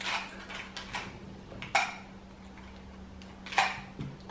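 Plastic marker pens are stirred around by hand, giving a scatter of light clicks and clattering taps, with two sharper knocks standing out over a steady low hum.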